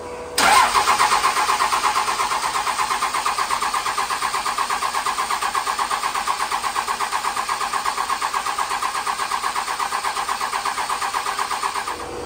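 A 6.7 Cummins diesel swapped into a 1978 Chevy truck cranks briefly and fires, then settles into a loud, steady, close idle with an even rhythmic clatter that runs to the end.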